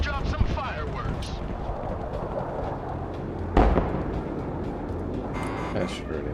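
Bombs from an air strike in the Broken Arrow war game burst amid a dense roar of battle, with a sharp loud blast near the middle over continuous rumbling and crackling, as a voice talks throughout.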